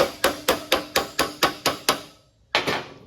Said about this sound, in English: We need to break out the hammer.